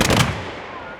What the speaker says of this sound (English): a big part about the cannon is we've got to have fun, but we like to make a big bang